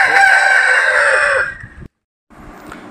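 A rooster crows loudly and close, one long sustained call lasting about a second and a half, followed by a brief silence and then quieter background farmyard sound, with no talking.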